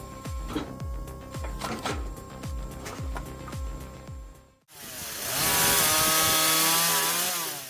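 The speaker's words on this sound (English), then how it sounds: "Let's see how this impressive version cuts such large logs." A homemade automatic firewood processing machine cuts large logs: a steady run of rhythmic mechanical thumps gives way abruptly to a loud, sustained whining saw roar biting through wood, close and alone.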